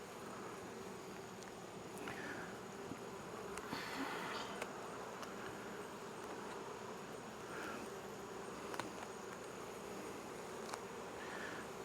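Honeybees swarming around backyard hives during a September hive inspection make a steady, dense buzz close by, with occasional louder passes of individual bees and light rustling.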